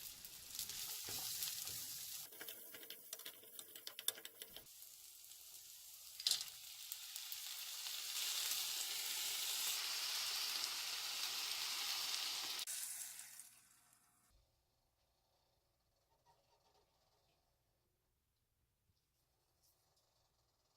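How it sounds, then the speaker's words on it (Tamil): Chopped onion and garlic sizzling in hot oil with stirring clatter, strong for most of the stretch, then dying away to near silence toward the end. "நறுக்கி வச்சுருந்த வெங்காயம், பூண்டையும் போட்டு நல்லா வதக்கிக்கலாம்"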